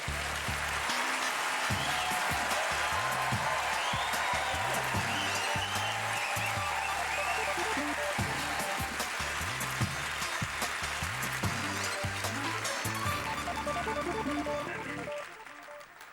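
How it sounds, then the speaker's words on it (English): Audience at a Winnipeg comedy festival show breaks into sustained clapping, a dense, even wash of applause lasting about fifteen seconds before tapering off at the end. "Give yourself a round of applause."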